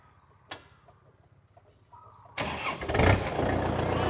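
A Kubota L4708 tractor engine cranks and catches at once, then roars up into a loud, rough, steady run close by, after a few quiet clicks.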